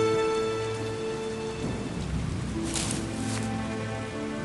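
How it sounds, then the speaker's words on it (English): Steady rain pours down with a low rumble of thunder, while a sustained musical tone drones underneath, in a Good Dinosaur storybook app game. "It began raining, and Arlo knew he had to build a shelter."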